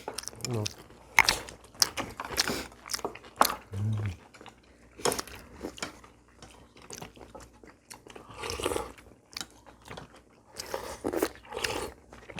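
Boiled baby clams dipped in soy sauce are eaten at a Korean home meal, with wet crunchy bites and chewing close up, broken by murmured voices and small clinks.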